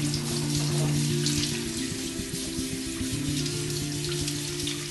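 Beef tenderloin being rinsed under a running kitchen tap with plain water: a steady, hissing splash of flowing water over a low hum, continuous and even throughout.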